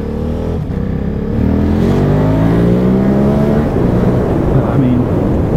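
KTM Super Duke motorcycle engine revs loudly up close, a rough rising growl that climbs in pitch and holds at high revs, then dips briefly before rising again.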